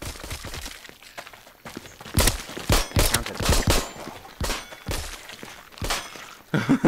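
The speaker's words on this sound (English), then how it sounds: "Gotta make all these bullets count." Gunshots in the VR video game Arizona Sunshine, a series of loud, close, sharp reports fired one by one with uneven gaps over steady background noise.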